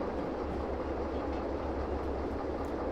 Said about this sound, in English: The sound you heard was the compressor pumping air into the main reservoir.